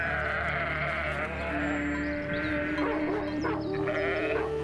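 Sheep bleat in a pastoral herding setting guarded by a Maremma dog, giving several wavering, nasal calls that rise and fall over a steady outdoor background, fairly close and clear with no talking.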